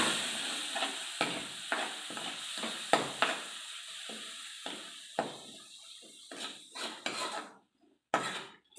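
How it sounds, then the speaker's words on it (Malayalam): Vinegar is stirred into a pan on a low-flame stove, with a spoon scraping in quick irregular strokes over a soft sizzle. The sound is close and fairly loud, and no one speaks. "ഫ്ലെയിം കുറച്ചിട്ടിട്ട് വേണം കേട്ടോ വിനീഗർ ഒഴിച്ച് കൊടുക്കാൻ. നല്ലോണം ഇളക്കി കൊടുക്കാം."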